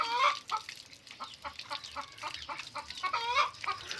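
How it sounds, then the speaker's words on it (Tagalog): An angry chicken clucks up close, a rapid series of sharp, repeated clucks with a couple of louder squawking bursts. "Tay, galit siya yung manok."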